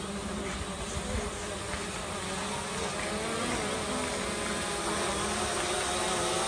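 A Hubsan Zino drone gives off a steady, high, insect-like buzzing whine that fills the whole stretch at moderate level, with no voices heard.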